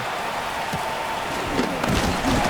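Pouring rain falls throughout a Dallas Cowboys football game broadcast, a steady broadband hiss with scattered heavier patters and occasional low thumps.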